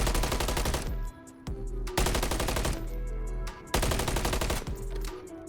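Rapid gunshots from a first-person shooter, Modern Warfare 3, fired at targets, a pole and a fuse box, in bursts of loud close cracks separated by brief pauses.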